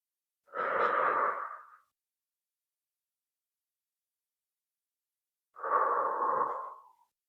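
Two slow, deep breaths during a seated chair yoga session, each a soft airy exhale lasting about a second, with a long silent pause between them, close and quiet.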